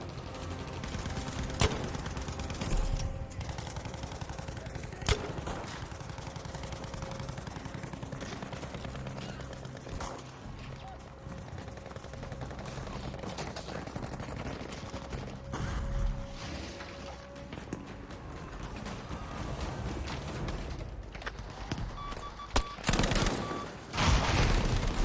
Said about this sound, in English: this gun's easier to fire from the hip than other LMGs too